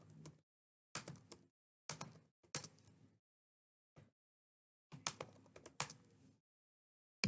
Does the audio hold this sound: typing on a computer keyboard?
yes